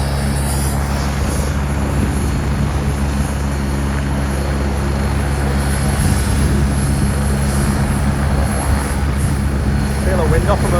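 Two helicopters sit in a field, one just starting and one near full throttle, their engines and rotors making a loud, steady, close whine and thrum, while people talk under the noise.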